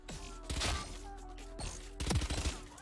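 Quiet, sharp gunshots in the video game Valorant, a few separate cracks and short bursts at a distance, with a faint low hum underneath.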